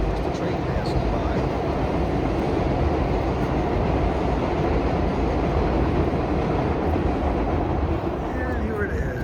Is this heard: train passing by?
yes